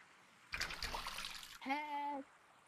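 Muffled underwater water sounds in the VR game Gorilla Tag, a brief gurgling, rushing burst, followed by a voice.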